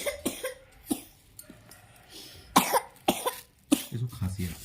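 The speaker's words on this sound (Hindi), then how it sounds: "इसको खांसी है।" A small child coughs in several short, sharp bursts spread across a few seconds, close to the microphone, with quiet adult voices and room noise in the background.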